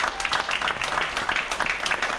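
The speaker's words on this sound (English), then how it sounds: "So let's give those people a round of applause" An audience claps for Mennonite volunteers who rebuilt and repaired homes after Hurricane Helene in Damascus, Virginia, a short burst of dense, even applause from a modest crowd.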